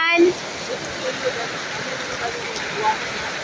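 Heavy rain pouring down in a steady, dense hiss on the surroundings of a commuter caught outdoors, loud and continuous, with a few faint brief sounds over it.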